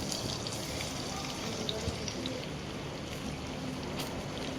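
Tomato dropped into hot oil in a pan, a steady loud sizzle and crackle of frying that holds evenly throughout, with no voices.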